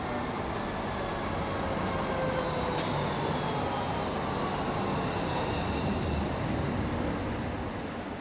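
A Frankfurt U-Bahn subway train rumbles steadily, filling the whole stretch with a constant, fairly loud roar and faint whining tones riding above it.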